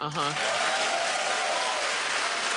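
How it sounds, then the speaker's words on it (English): A studio audience at a daytime TV talk show claps steadily and loudly throughout, a broad wash of applause following a brief bit of voice at the very start. "Keep clapping."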